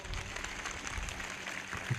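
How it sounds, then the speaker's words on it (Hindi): A church congregation at a Sunday service of Prophet Bajinder Singh's ministry in Tajpur claps steadily, producing a dense, continuous wash of hand claps at moderate loudness throughout. "ताली बजाएंगे वो लोग जिनको नींद आ रही है, जोर से ताली बजाएंगे, जोर से।"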